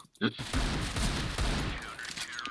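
Gunfire in the video game CS:GO, a brief dense burst of rapid shots following a single sharp report, loud and close with some voice chatter underneath.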